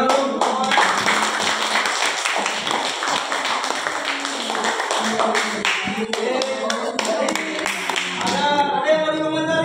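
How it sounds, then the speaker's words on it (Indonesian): An audience clapping hands, a stretch of irregular, close claps and taps that go on for several seconds, with some voices in between. "Tepuk tangan dulu."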